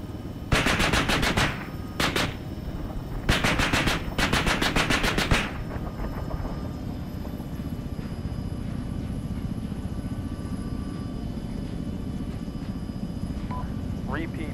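A fighter jet's gun run in the video game Arma 3: several loud rapid bursts of automatic cannon fire, followed by a sustained jet engine roar that fades into a steady hum.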